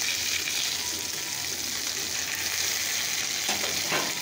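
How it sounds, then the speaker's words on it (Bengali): Katla fish pieces fry in hot oil with a steady, loud crackling sizzle throughout, with brief stirring or spatter bursts near the end and no talking. "তো চলো মাছগুলো ভেজে নিই পটাপট।"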